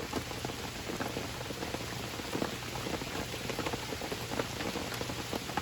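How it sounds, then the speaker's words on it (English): Rain falls steadily on surfaces nearby, a dense, even patter of drops that fills the whole stretch with no voices over it. "I still like the rain no matter what."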